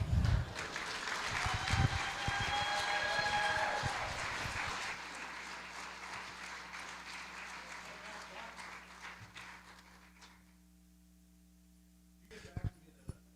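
Audience applause at a community variety show, loud clapping and cheers for several seconds that taper away into quiet, with a few scattered claps near the end.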